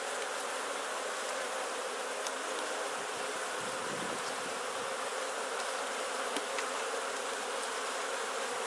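Honey bees hum in a constant dense buzz, close and even throughout, during a Langstroth hive inspection outdoors. No voices are heard.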